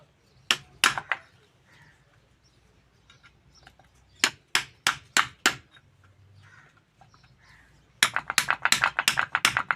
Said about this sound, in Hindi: पूरा ठोक देना है।